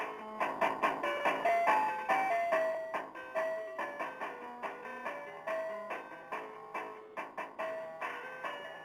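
A melody of pure electronic beeping tones played through a computer hard drive used as a speaker, steady and fairly quiet, with clipped, toy-like notes following one another in a continuous tune.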